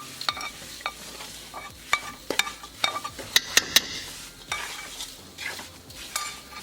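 Roasted besan and almonds stirred in a pan, with a spoon scraping and clinking against the metal in irregular strokes over a faint sizzle, close and fairly quiet, no voices.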